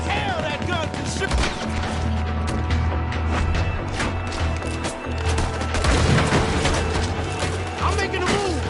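Rapid Gatling gun fire from a veranda in a Western shooting video game, a dense continuous barrage of shots mixed with crashes and splintering, loud and busy throughout with game voices talking over it.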